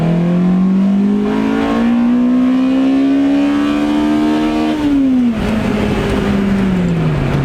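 A naturally aspirated Honda EP3 engine revs loudly and steadily climbs in pitch, holding high before dropping off sharply near the end, close and continuous.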